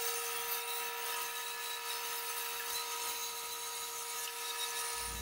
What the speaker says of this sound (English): you know how that bandsaw blade can kind of wiggle on you